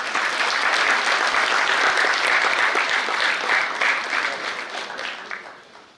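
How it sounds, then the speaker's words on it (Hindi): An audience at a dance drama event claps loudly and steadily for several seconds, then the applause gradually fades away toward the end. "जोरदार तालियां।"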